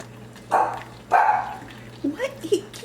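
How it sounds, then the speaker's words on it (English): A dog barks twice, close and sharp, followed by a few softer yips and whines. "He can't even see anything and he's barking."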